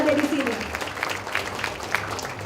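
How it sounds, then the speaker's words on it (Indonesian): Faint audience applause at an Indonesian event discussing presidential candidates, a brief scattered clapping under a voice that talks through it. "Sekali lagi tepuk tangan yang meriah untuk kita semua yang ada di sini."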